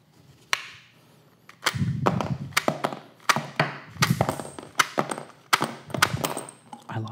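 Rifle rounds dropped one by one into a small box, giving a string of sharp metallic clinks and taps with irregular rhythm, close and fairly loud, with no voice over them.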